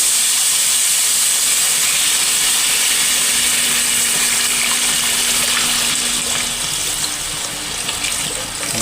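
First coconut milk poured into a hot pan for ginataang gulay with yellowfin tuna, a loud close rushing hiss and steady sizzle that runs unbroken and eases slightly toward the end, with no voices.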